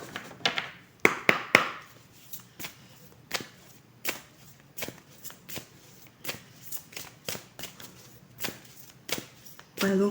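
Message cards being shuffled up close indoors, a quick riffle of flutters at first, then a long series of separate soft slaps and taps in an irregular rhythm.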